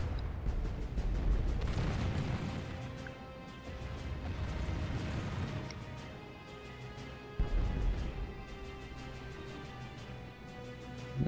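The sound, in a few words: mortar shells exploding in Call of Warhammer video game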